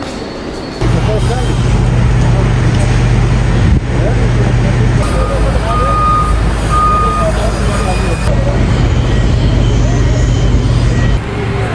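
Loud, steady engine roar of an airliner while passengers board, a constant low drone with a repeating beep tone, and people talking close by over it.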